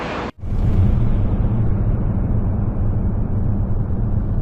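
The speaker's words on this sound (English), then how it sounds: "to a jet flying through the air." A jet in an AI-generated scene roars through the air as a steady, heavy low rumble that stays loud and close after a brief cut near the start.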